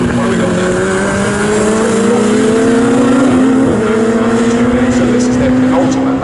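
A Radical SR1 race car engine screaming at Snetterton circuit, a loud, sustained high-revving drone that climbs steadily in pitch through the gears, with a commentator talking over it.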